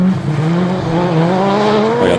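A BMW M3 rally car racing on a stage of the TAC Rally, its engine loud and close with rising and falling revs as it works through gears.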